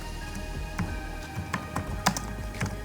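Fingers type on a computer keyboard, a quiet, steady patter of individual key taps at an irregular pace over a low background hum.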